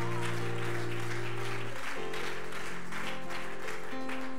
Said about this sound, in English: Let's give him one more hand clap of praise